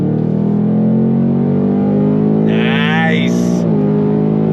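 A 2025 Ford Mustang GT's V8 engine on throttle gives a loud, steady drone whose pitch climbs slowly, heard from inside the car while someone briefly speaks over it.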